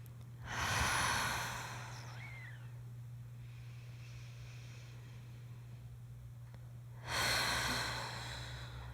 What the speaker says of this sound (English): Might be nice to have a few of those audible exhales here.